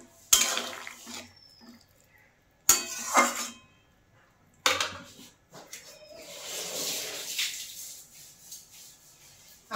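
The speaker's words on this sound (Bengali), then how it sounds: "এর মধ্যে আমি বেগুনগুলো দিয়ে দিচ্ছি। চেরা কাঁচা লঙ্কা দিয়ে দিলাম।" Eggplant pieces and slit green chillies go into a cooking pan with boiled potatoes, giving three sharp clattering drops, each followed by fading scraping and stirring of the pan.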